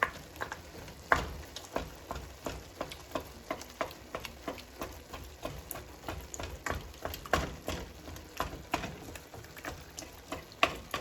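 Ground beef browning in a pot for lasagna, a steady close sizzle and frying hiss broken by frequent scraping stirs of a utensil against the pot, with no talking.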